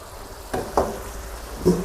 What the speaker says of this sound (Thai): ตามด้วยกระชายซอยหนึ่งกำมือ คนคลุกเคล้าให้เข้ากันครับ